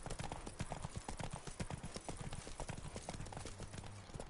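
Roach, an armoured horse in The Witcher 3, trotting with a steady clip-clop of hooves, rhythmic and fairly close, over quiet ambient game sound and a faint low hum.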